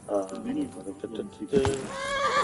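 A horse neighs in Kingdom Come: Deliverance II, a clear whinny rising over someone speaking nearby, with faint hoof clops under it.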